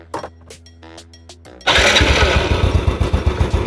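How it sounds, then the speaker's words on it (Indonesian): A third-generation Yamaha Jupiter Z motorcycle engine starts after a brief spell of music, then runs at a steady idle, loud and close with a smooth, even putter. "suara mesin dari Yamaha Jupiter Z generasi ketiga ini terdengar cukup halus"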